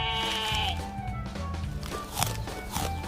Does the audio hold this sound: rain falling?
no